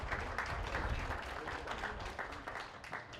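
A small audience at a popsicle stick bridge competition claps in a brief, moderate burst of scattered applause, fairly even throughout and gently fading.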